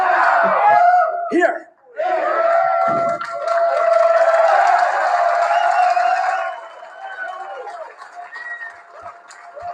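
Crowd in a film scene from Magnolia roaring and cheering loudly and continuously, with a brief dip and a low thump, while a voice shouts over the crowd.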